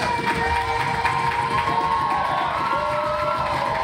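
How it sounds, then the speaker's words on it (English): Audience at a drag competition hosting challenge in Washington, DC cheers and shouts in a continuous, dense wall of noise with steady loudness throughout. "right now, I need y'all to start clapping for both of these incredible"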